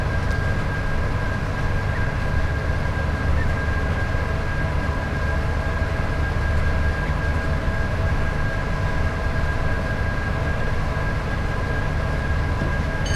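Train with Mark 3 coaches rolling past in a train simulator, a steady loud rumble with a constant high whine, unbroken and close for the whole stretch.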